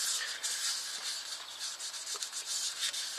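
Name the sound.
rubbing wood adhesive into yew goblet bowl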